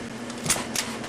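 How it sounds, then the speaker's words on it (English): A Fotochrome camera fires its mechanical shutter with no film loaded: two crisp, close clicks a fraction of a second apart over a quiet room. "just clicking off images"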